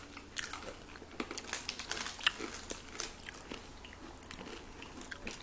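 Korean Pretz cinnamon sticks bitten and crunched close to the mic, a string of crisp snaps and chewing crackles spread across several seconds, with no talking.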